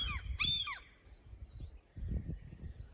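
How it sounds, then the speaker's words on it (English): Two anxious seagull parents near a chick that fell from the nest give a few harsh, loud calls in quick succession at the start. Afterwards only low wind or rumbling background noise remains, heard outdoors during a sailing trip to Finland. "There are these two seagulls, and their minor it's fallen out from the nest"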